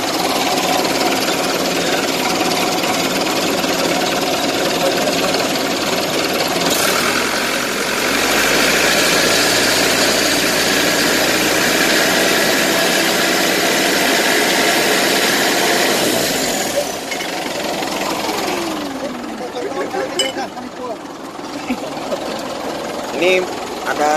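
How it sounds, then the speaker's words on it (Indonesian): A Mitsubishi motorhome bus engine with a fitted turbo runs steadily and loudly, with a rattling hammering idle from a slight exhaust leak and whooshing turbo tones, while a person talks over it. "Ini ada suara knalpot bocor aja sedikit."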